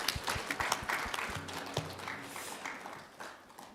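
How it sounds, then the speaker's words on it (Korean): Congregation at a Korean church Sunday worship service applauding to welcome a visitor, a fairly soft patter of many hands clapping that gradually tapers off. "우리 박수로 환영해 주시기 바랍니다."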